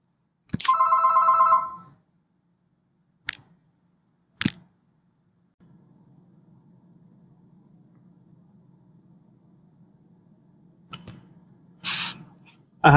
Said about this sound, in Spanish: Dame un momento que tengo que atender aquí un segundo el teléfono